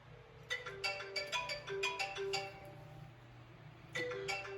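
Cell phone ringing inside a microwave oven used as a Faraday cage, heard as a repeating bright melodic ringtone in bursts of quick tones, fairly faint over a low steady hum, with no talking.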